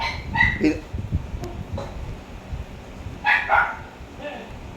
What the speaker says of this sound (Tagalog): Storbo yung aso ko, naririnig niyo ba?